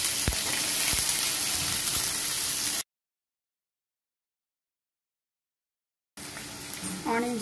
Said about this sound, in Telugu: ఆనియన్స్ త్వరగా వేగేందుకు ఉప్పు యాడ్ చేసుకున్నాం